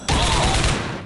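Gunfire in the video game Rogue Trooper Redux erupts as a short, loud, dense burst of shots lasting under a second.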